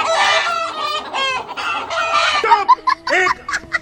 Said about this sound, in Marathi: कोंबड्या वरडायला लागलेला लईच आवाज यालता